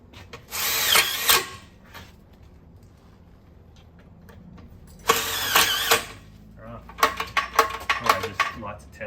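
A power drill driving screws into a Lokk Latch Deluxe on a fence, loud close whirring in separate bursts with short pauses and rattling between them, and no talking over it.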